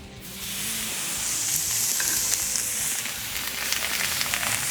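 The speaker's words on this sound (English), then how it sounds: "Just sit back, enjoy that sizzle." Hanger steaks sizzle loudly and steadily on a hot BBQ griddle, a dense, continuous hiss of frying fat with occasional small pops.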